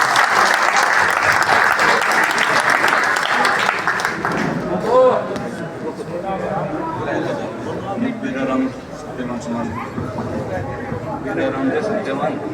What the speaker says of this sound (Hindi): अनुराग ढांडा जी को पगड़ी से सम्मानित करेंगे, जोरदार तालियों से स्वागत करें।